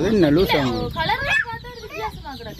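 A country chicken clucks near the recorder in a short string of calls, with voices talking over and around it.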